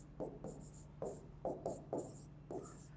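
A pen or marker scratches across paper in short strokes, about eight brief scrapes in an uneven rhythm, close and fairly faint over a low steady hum, with no talking.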